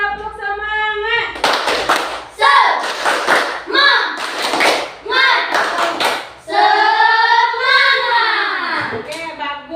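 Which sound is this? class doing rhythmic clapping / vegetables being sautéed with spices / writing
class doing rhythmic clapping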